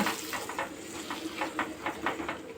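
Egg bhurji, scrambled eggs, sizzles in a pan while a spatula stirs and scrapes it in quick repeated strokes over a continuous close frying hiss.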